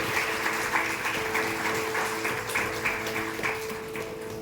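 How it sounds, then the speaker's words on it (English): A crowd at an annual general body meeting applauds steadily, a dense wash of clapping that stays even throughout with a faint steady hum beneath it. "Let us all applaud loudly"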